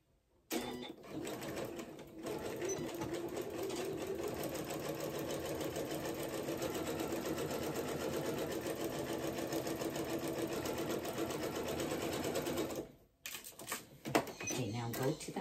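A domestic sewing machine stitches fabric in a long, steady, rapid mechanical whir with fine ticking, close by, stopping briefly near the end before a few short bursts.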